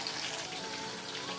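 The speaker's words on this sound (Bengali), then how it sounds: "এখানে মাছ ভাজা বসিয়ে দিলাম," Fish, catla, sizzling in hot oil in a pan, a steady soft crackling hiss heard alone and fairly quiet, without talk.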